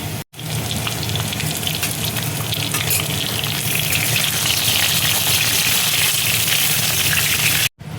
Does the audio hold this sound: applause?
no